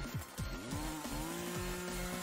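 A saw in the game Escape the Backrooms buzzes constantly, a droning motor with repeated rising whine sweeps, steady and fairly loud with no speech.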